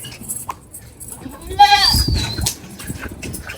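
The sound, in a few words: goats at a livestock market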